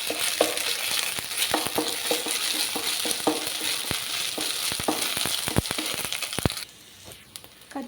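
Curry leaves and fresh ginger fried in a pan, a close steady sizzle with frequent sharp crackles and pops from the leaves, the frying dropping away near the end.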